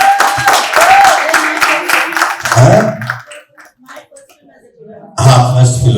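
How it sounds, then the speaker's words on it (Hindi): Audience clapping at a live comedy stage show, a dense burst of applause at the start that fades into a quieter stretch, then swells again loudly near the end, with some voices mixed in. "तालियां प्लीज"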